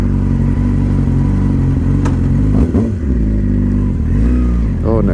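A freshly rebuilt Yamaha R6 sport bike engine runs loud and close, a steady buzzing drone punctuated by a few quick rising and falling revs.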